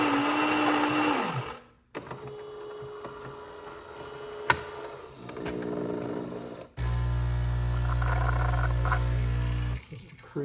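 A Saeco InCanto de luxe S Class coffee machine grinds with a steady mechanical whir, fades, then after some quieter clicks and hum a loud, constant droning grind runs for about three seconds before stopping.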